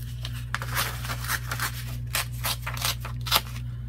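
Scissors snip repeatedly through paper for a junk journal page being trimmed down, a quick run of close, crisp cuts over a steady low background hum.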